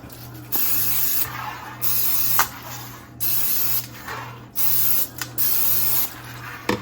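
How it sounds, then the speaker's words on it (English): Cooking spray hisses onto a pan in about six short bursts, each roughly half a second to a second long, separated by brief pauses over a faint steady hum. "I'm going to spray my pan first"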